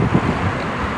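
Strong, storm-like wind blusters in a park, rumbling steadily and loudly against the microphone for the whole second, with no one speaking.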